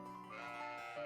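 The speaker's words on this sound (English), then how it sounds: "look at those fluffy sheep" A sheep bleats in the rural fields of Trails of Cold Steel IV, one drawn-out, wavering call lasting about a second at moderate volume.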